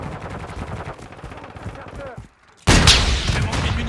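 Gunfire in a first-person shooter video game: bursts of rapid shots, a brief near-silent gap, then a loud dense volley, with speech in places.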